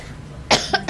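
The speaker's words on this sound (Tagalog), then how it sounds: "Ako'y medyo po inuubo." A sudden cough bursts out, followed by two shorter coughs, close and fairly loud over a quiet room, from someone feeling unwell while about to host a family Independence Day and birthday gathering.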